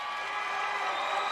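Broadband roar of a crowd at the Westminster Kennel Club dog show, applauding and cheering steadily after a French Bulldog is named winner of the non-sporting group, loud and continuous.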